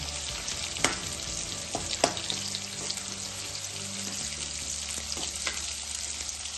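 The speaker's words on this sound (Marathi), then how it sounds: "कांदा चांगला लालसर होईपर्यंत परतून घ्यायचा" Half-cooked onion sautés in a pan for dry fenugreek-leaf bhaji, a loud, steady close sizzle broken by sharp scraping stirs of the spoon.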